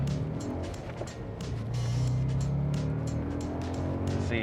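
An Audi all-wheel drive car pulling under acceleration, its exhaust muted, giving a steady, loud, continuous engine drone with a rising tone and no talking.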